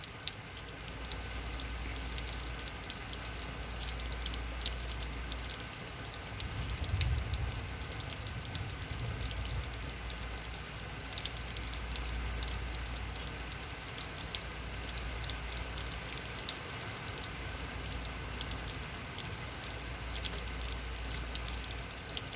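Heavy rain storm with wind-driven rain pouring steadily and close, a dense continuous hiss and patter with a low rumbling wash of wind, holding level throughout with no voices.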